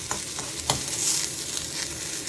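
Fenugreek leaves frying in oil in a pan while being stirred, a dense steady sizzle with scraping stir strokes, close and loud throughout.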